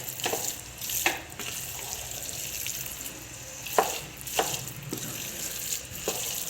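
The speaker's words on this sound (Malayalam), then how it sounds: "നന്നായിട്ട് വെളിച്ചെണ്ണ എല്ലാ ഭാഗത്തേക്കും എത്തണ വരെ ഒന്ന് ഇളക്കി കൊടുക്കാം." Meat rice being stirred with coconut oil in a pot, a steady wet sizzling hiss broken by several scraping clatters of the spoon at irregular intervals, close and moderately loud.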